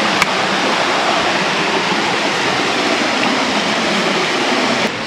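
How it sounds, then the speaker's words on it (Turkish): Waterfall rushing in an outdoor setting with wooden bridges, a loud, steady broadband roar of falling water filling the whole stretch without pause. "Şelale gittikçe oluşmaya başladı."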